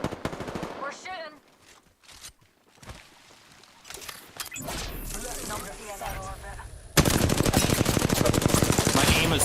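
Automatic gunfire from an Apex Legends match, with bursts of rapid shots that grow loud and dense toward the end and a voice speaking over the earlier part.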